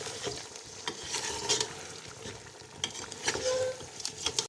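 Paste of three large ground tomatoes hits a hot pan for a goat head curry, sizzling loudly and continuously while a spoon stirs and scrapes, with small crackles throughout.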